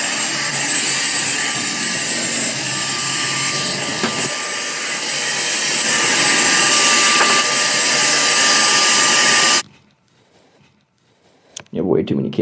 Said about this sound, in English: It's time to get out the vacuum cleaner and start vacuuming!